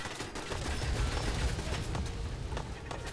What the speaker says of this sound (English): And then so many machine gun turrets.